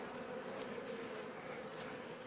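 Honey bees hum at their hives, a dense, even buzz of many insects going without a break, fairly soft and heard with nothing else.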